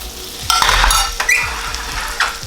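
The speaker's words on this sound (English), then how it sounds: "So I'm just gonna saute them into the pasta." Button mushrooms and gnocchi sautéing in canola oil in a pan, a steady sizzle and fry broken by several stirring scrapes and clacks of a utensil against the pan.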